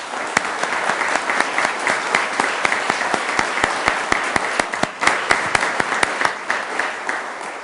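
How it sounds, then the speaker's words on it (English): A city council installation ceremony audience claps for the councilors, a steady crowd applause with sharp individual claps popping out over the wash, continuing evenly throughout. "let's give them a round of applause, please"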